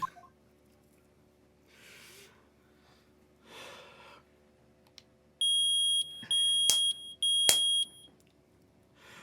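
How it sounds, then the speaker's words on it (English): Metal detector in the Phoenix Wright: Ace Attorney video game gives a loud, flat electronic beep in three sustained pulses after a few faint breathy sounds, with no voices. "I've never been so fucking grateful to hear that incredibly annoying, painful beep"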